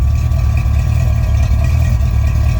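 A car engine idles steadily and loudly, with a constant mechanical hum and a faint high whine from an external Holley Blue 110GPH electric fuel pump running beneath the low rumble.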